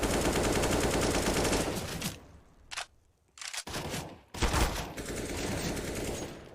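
Dense bursts of SMG fire in Counter-Strike: Global Offensive on the Inferno map during a pro match, loud and sustained, cutting out briefly midway with a few isolated shots before heavy firing resumes.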